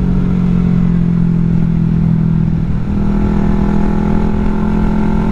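A Yamaha R3 V2 sport motorcycle is ridden with a steady, loud engine drone. The hum holds an even pitch at constant speed, mixed with wind rush, and no one speaks.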